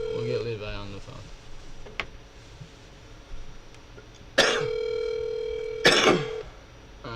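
Outgoing phone call ringing unanswered, two loud ring bursts with sustained tonal hums roughly a second and a half apart, following a stretch of talk and brief clicks.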